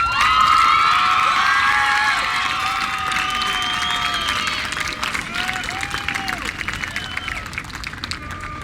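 A high school graduation crowd at Farmington High School applauds and cheers loudly for parents and family, with whoops and shouts over sustained clapping that gradually thins out.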